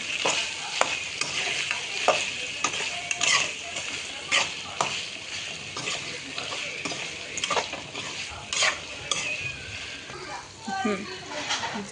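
An onion-garlic masala for chicken fries and sizzles in a kadai while a spoon scrapes and stirs it in repeated strokes, up close, with people talking over the cooking.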